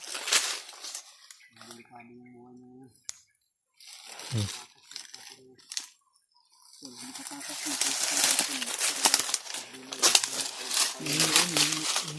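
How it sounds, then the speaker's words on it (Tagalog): Birds coo in short, repeated phrases, broken by pauses, while people talk nearby and a rustling, watery background swells toward the end. "May ibon mga tol."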